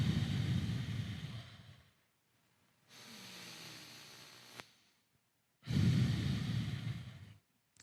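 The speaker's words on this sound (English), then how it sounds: "breathe in and out of your nose" Slow nasal breathing during a beginner yoga pose: three long, airy breaths in and out through the nose, close and clear, separated by short silent pauses.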